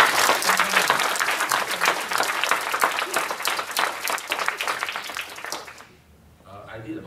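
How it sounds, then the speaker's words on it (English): Audience applause at a pre-budget forum, a dense, loud burst of clapping from a seated crowd that keeps going for about six seconds, then fades quickly, leaving soft room noise and a few faint voices. "How a round of applause for Roy"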